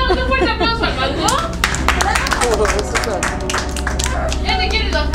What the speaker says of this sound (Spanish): le damos un fuerte aplauso al mango